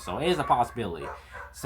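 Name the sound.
dog barking in the background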